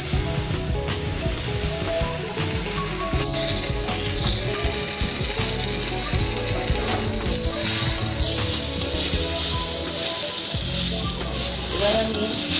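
Washed rice frying with whole spices such as cinnamon in a pan for a vegetarian chal patal dish, a loud steady sizzle with continuous scraping and stirring throughout, no voices.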